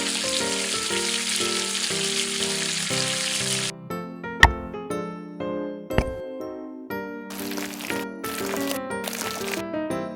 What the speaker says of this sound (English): Cooking oil. Shrimp chips.